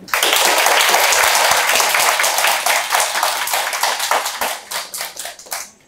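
An audience bursts into dense, loud applause after the introduction to a team presentation. The clapping thins into scattered individual claps before stopping, with no talk.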